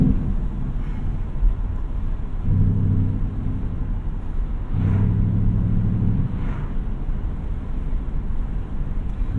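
A 2020 Ford Mustang Bullitt's engine rumbles steadily while driving, with a deep, continuous drone that swells in two stretches of stronger, harmonic growl, heard alone without talk.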